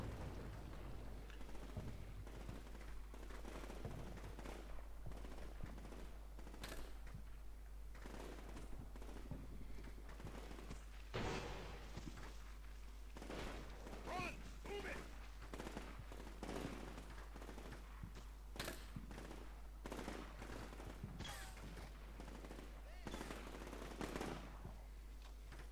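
Suppressive gunfire in the Combat Mission Shock Force war game sounds as a long stretch of distant machine-gun bursts and scattered rifle shots over a low steady hum, with no pauses and no voices.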